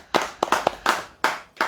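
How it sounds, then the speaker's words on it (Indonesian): Scattered hand claps during a religious talk, sharp and close, about seven separate slaps at an uneven rhythm rather than a full crowd's ovation. "Tepuk tangan."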